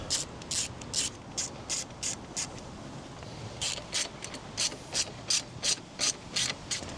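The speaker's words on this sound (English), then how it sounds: "undo these 3 10mm screws on the chain guard" Up close, a ratchet clicks in repeated short bursts while undoing three 10mm screws on the chain guard of a Honda CB125F motorcycle, pausing briefly before another steady run of ratcheting.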